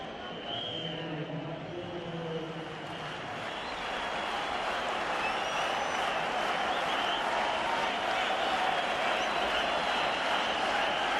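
A large cricket stadium crowd applauds and cheers in a steady, dense roar that swells slightly and holds loud throughout, with no clear talk above it.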